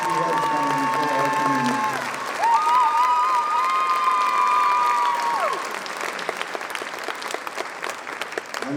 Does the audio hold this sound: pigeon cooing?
no